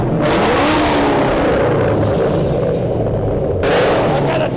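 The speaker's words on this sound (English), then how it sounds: "Give it a little rev." A car engine revs hard with popcorn popping in its exhaust, a loud continuous roar with sharp bursts and crackles near the start and again toward the end.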